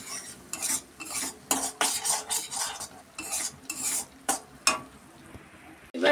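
Spices with salt and turmeric for a fish curry stirred and fried in a pan, bursts of scraping strokes with sizzle, close and fairly loud, pausing between strokes and ending with a metallic clink.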